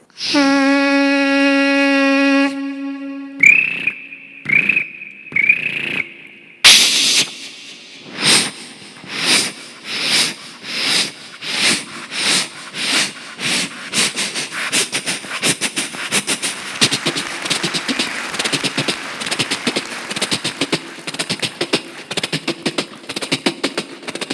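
A voice imitates a steam train, starting with a long whistle-like tone and short hoots, then rhythmic chuffing puffs that speed up into a rapid, continuous chugging, loud and close.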